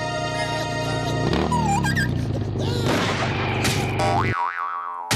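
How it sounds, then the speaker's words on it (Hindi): Cartoon gunshots fired into the air in an animated comedy, mixed with boings, squeaks and music in a loud, busy soundtrack. "चिंगम सर, हवा में फायर कीजिए।"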